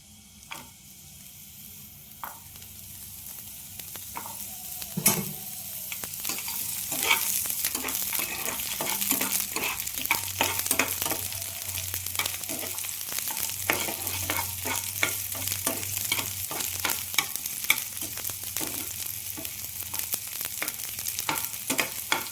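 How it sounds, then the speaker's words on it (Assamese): Onion frying in a pan for egg curry crackles and sizzles steadily close up, building louder over time, with frequent sharp pops and stirring scrapes and no speech. "ইয়াতে মই পিঁয়াজ অকণ দিলোঁ।"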